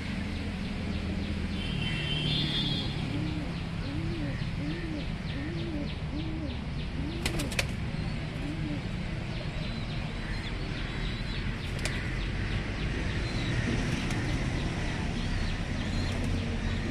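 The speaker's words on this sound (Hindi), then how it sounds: "यहाँ पर देखिए आपको कबूतर दिखा" Pigeons coo softly in a steady run of rolling calls, repeated several times over continuous outdoor background noise.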